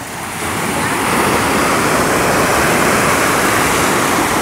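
Sea of Azov surf on the beach at Golubitskaya at sunset: a continuous broadband wash of breaking waves that swells in over the first second, then holds loud and close.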